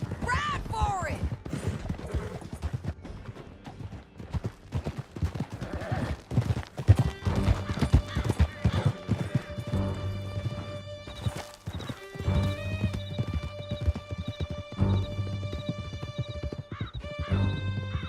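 Horses gallop with a steady clip-clop of hooves in Red Dead Redemption 2, with neighs and scattered gunfire during a canyon chase, loud and close, while a sustained musical tone rises in the second half and voices shout briefly.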